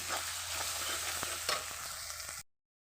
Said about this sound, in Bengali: একটু সরিষার তেল দিয়ে দেবো, গন্ধটা খুব সুন্দর আসবে, তার জন্য নেড়ে চেড়ে নেব তেলটাও